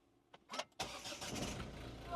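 A car engine cranks with a couple of short starter bursts, then catches and roars into a steady idle, close by.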